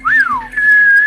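A person attempts a whistle, a short rising and falling tone followed by a steady held pitch, loud and close with no talk over it.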